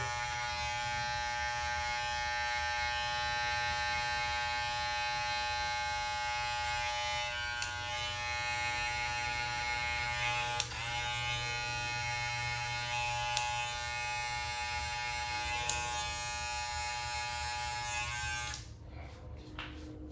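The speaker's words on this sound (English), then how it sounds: "Take your trimmer. And that's how you fade in your beard." Close, continuous buzz of an electric beard trimmer cutting a beard, steady and loud for most of the stretch with a few brief clicks, then cutting off near the end; no speech.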